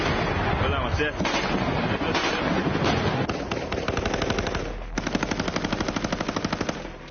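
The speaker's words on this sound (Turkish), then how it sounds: "Moskova'nın gözüne kestirdiği Mariupol'de, Abluka'daki Azovstal fabrikası civarında yine çatışmalar vardı" Gunfire from fighting around the besieged Azovstal factory in Mariupol: dense bursts of automatic weapons fire, loud and crackling, ending in a fast regular rattle of shots.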